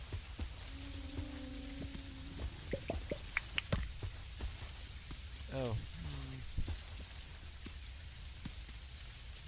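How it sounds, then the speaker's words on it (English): Rain falling in the video game Dinkum, a patter of drips and splashes under other game sounds and animal calls, while a voice briefly speaks. "Well, sounds like those crocs like the rain."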